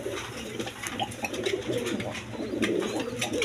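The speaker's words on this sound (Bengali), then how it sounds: "দেখেন দেখার মতো কবুতর, কোয়ালিটি সম্পন্ন কবুতর" Caged pigeons, including a male courting a female ready to lay, give a steady murmuring coo in overlapping rolling phrases, close and moderately loud, with soft rustles and clicks and no speech.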